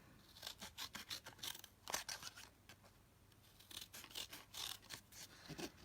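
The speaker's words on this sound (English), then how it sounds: "Let's see if we can create a pot out of this bit of piece of card that we've got. Bigger scissors." Quiet, close snips of large scissors cutting through card, a steady run of short crisp cuts with a brief pause midway.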